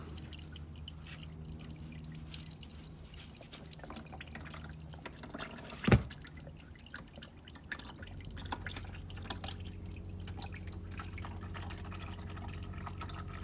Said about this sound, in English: And some oil will drip from there as well.